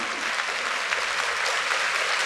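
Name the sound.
audience applause for long-serving staff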